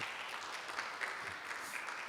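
Faint, steady applause from an audience at a launch event after a speech, soft and distant, with no voices over it.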